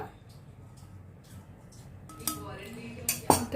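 Homemade chocolate mixture being stirred in a bowl, quiet scraping building into a few bright clinks of a spoon against the bowl near the end, close by over a soft background hum.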